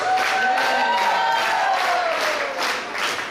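Audience applause at a youth dance camp, loud and continuous crowd clapping with scattered cheers and whoops riding on top, sustained throughout before easing slightly near the end.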